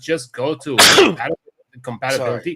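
One loud, close sneeze bursts out in the middle of conversation, with people speaking before and after it.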